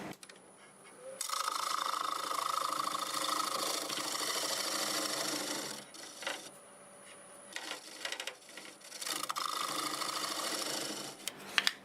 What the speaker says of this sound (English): So I'll use the scraper for some of that